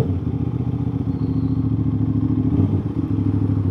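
An Aprilia RS660 motorcycle fitted with a new aftermarket exhaust idles with a deep, steady burbling throb, loud and close, with a slight swell in the engine note partway through.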